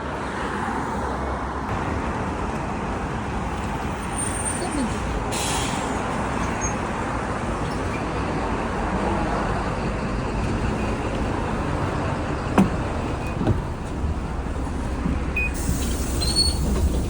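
Busy street traffic near a bus stop beside a gasoline station in Auckland, with a continuous roar of passing cars and buses, a hiss of air brakes and occasional brief clanks.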